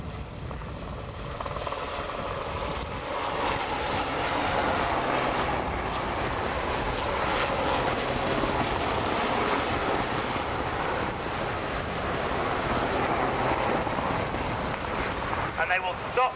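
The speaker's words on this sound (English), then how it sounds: "On the left and from the right, Sea Kings coming in from the Commando Helicopter Force." Royal Navy Sea King helicopters of the Commando Helicopter Force arrive from left and right at the Yeovilton Air Day commando assault, a broad sustained rotor roar mixed with wind noise, loud and steady throughout, with a commentator talking over it.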